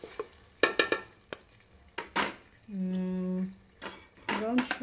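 Spoon clanks and scrapes against a pan while ingredients are mixed, in short irregular knocks, with a voice talking between them and a brief tonal beep partway through.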